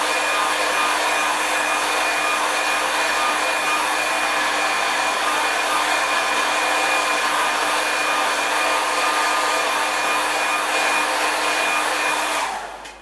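A hair dryer blows steadily to dry paint on a big-brush landscape painting, a loud continuous whirring roar with a faint high whine, held for about twelve seconds before cutting off.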